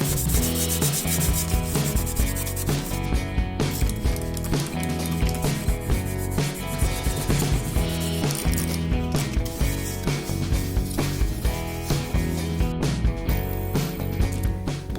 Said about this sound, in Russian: Красным скотч-брайтом матуем те поверхности деталей, которые будем в дальнейшем красить в черный цвет.